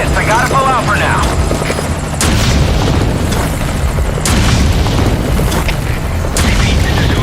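Explosions and a helicopter in Metal Gear Solid V on PS5: loud broadband booms at intervals over a steady rotor drone, with game dialogue and radio chatter at the start.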